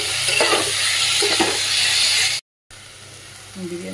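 Chicken and onions fry in a pan for chicken biryani, giving a steady, loud sizzling hiss that runs continuously, briefly cuts out, then resumes with a faint voice near the end.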